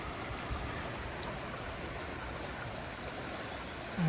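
Devil's River flowing as a steady, soft rushing wash of water, continuous and moderately distant, with a brief nearby thump at the end.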